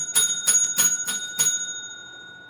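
A bright bell rung rapidly five times to close a question during a live trivia game, ringing metallic strikes in quick even succession that leave a fading sustained tone, no talk over it.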